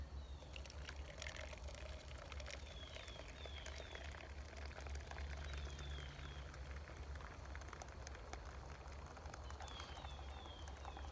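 Water poured from a Self Reliance Outfitters kettle outdoors, a steady soft trickle over a low constant rumble of background noise, with faint bird chirps in the distance.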